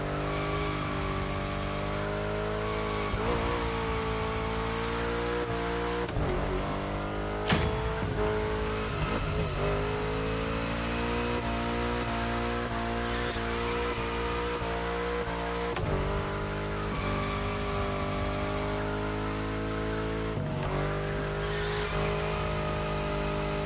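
A car engine in The Crew Motorfest racing game drones steadily and loudly, with the pitch rising and falling as the throttle is released and reapplied through turns, plus occasional sharp transients.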